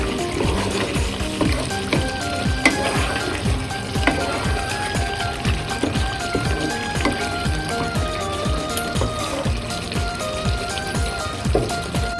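Mutton curry with potatoes frying in a pan while being stirred, a steady crackling sizzle with rhythmic scraping strokes, close and continuous with no talk.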